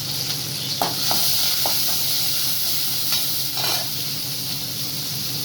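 Cumin, onion and garlic sizzle loudly and continuously in hot oil in a pan, close up, with a few short clinks and stirring scrapes over the steady frying hiss.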